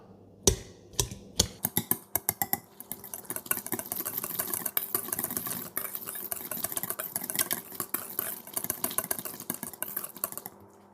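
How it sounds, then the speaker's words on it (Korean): Wire whisk breaking up a block of soft tofu in a bowl: rapid metallic clicking and scraping strokes, sharp at first, then a steady dense rhythmic stirring chatter, close and clear with no talking. "휘스크를 이용해서 두부를 잘게 쪼개줍니다."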